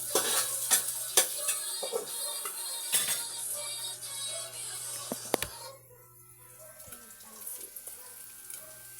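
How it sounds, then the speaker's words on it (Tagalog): Pancit noodles with onion, garlic, ginger, tomato and carrots being stir-fried, with quiet scraping and stirring over a soft sizzle, intermittent clinks, then fainter near the end. "tayo ay magluluto ng pansit"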